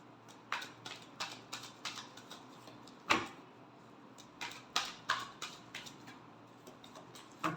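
Tarot cards are shuffled by hand in a quiet room during a love reading, giving soft, fast clicks and riffles in an uneven rhythm. One sharper snap stands out midway, and no one speaks.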